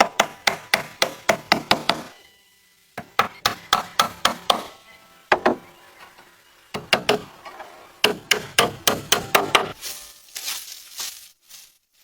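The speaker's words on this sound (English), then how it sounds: "just keeps hammering away tirelessly" Rapid bursts of sharp hammer strikes on wood along a cabin roof ridge, loud and close, in quick runs separated by brief pauses.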